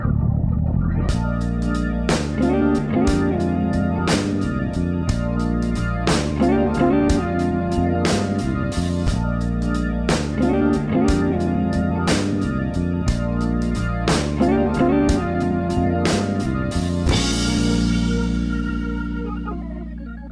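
A four-measure jazz example with saxophone over a steady rhythm backing with sharp repeated accents, played loud and continuous for about twenty seconds, then fading out at the end; no talking.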